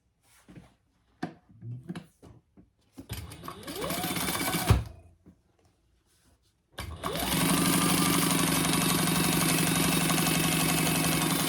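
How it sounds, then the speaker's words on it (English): A sewing machine runs chain stitching on fabric backed with stiff interfacing, starting in short bursts, then a steady whirring hum, stopping, and running again continuously and loudly to the end. "I think I will do some chain stitching here"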